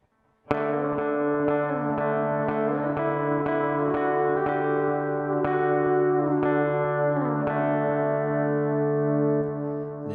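Clean electric guitar riff played through an MXR Carbon Copy delay and Strymon plate reverb, picked notes ringing over a sustained open D drone with trailing echoes, steady and close, no talking.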